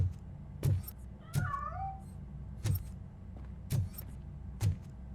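A cat meows in the video game Robocop: Rogue City, with a clear, rising-and-falling meow in the middle and a few sharp clanks and thuds spaced around it.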